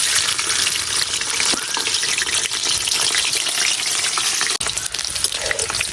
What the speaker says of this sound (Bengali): এই রসুন গুলা হালকা একটু লাল লাল করে বাইজে নিয়াম